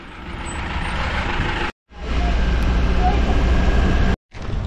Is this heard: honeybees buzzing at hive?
no